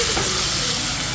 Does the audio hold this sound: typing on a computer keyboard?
no